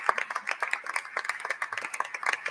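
Scattered hands clap steadily and fairly close at a press conference held by Governor Hochul, a light patter of applause from a small group.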